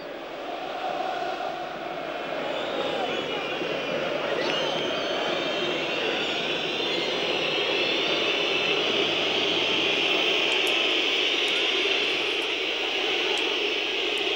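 Galatasaray home crowd in a packed stadium at a UEFA Cup match against Hamburg, a sustained, dense roar of fans bellowing support, steady and unbroken throughout.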